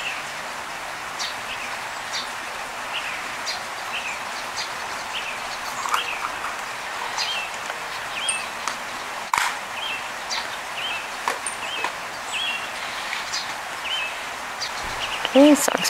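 Small songbirds chirp at a park feeder where a song sparrow and a California towhee come for mealworms, short calls repeating at a steady outdoor distance over faint rustling, with a louder scratch near the end.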